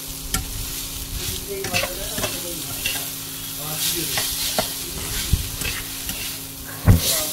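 Chowmein noodles stir-fry in a pan, making a steady sizzle with repeated scraping and clanking strokes of a spatula, close and fairly loud, with no voices.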